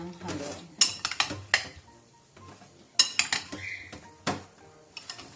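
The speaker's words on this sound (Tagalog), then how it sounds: "Haluin lang natin ng haluin." Pasta salad with mozzarella is tossed in a bowl, giving repeated clinks and scrapes of utensils against the dish in uneven bursts, close by, with a soft voice now and then.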